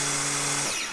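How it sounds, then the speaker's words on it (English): A power drill whines at high speed while boring a hole in a 20 mm solid wood board for a homemade wooden belt grinder bracket. The steady tone holds, then winds down at the end of the short burst. "after that, just drill the hole"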